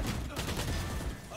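Rapid gunshots in the tactical shooter Valorant, a quick cluster of loud cracks packed into a short burst, with speech mixed in.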